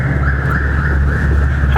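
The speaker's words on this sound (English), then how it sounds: "I set off his car alarm." A loud car alarm wails steadily, its tone warbling up and down, close by with a low rumble underneath.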